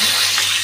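Chili dropped into hot oil after potatoes have been fried, for potato dum, giving a steady, close sizzle with a constant low hum beneath, brief and without any talking.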